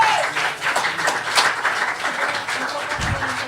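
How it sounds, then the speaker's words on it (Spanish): A church congregation claps in applause during a worship service, a moderate scattered wash of clapping with some voices mixed in. "Dale un aplauso al Señor"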